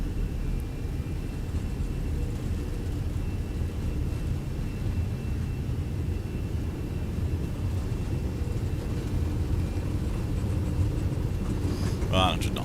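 Airbus A320 jet engines at takeoff thrust during the takeoff roll, a steady, heavy low roar filling the cockpit throughout, with faint voices under it.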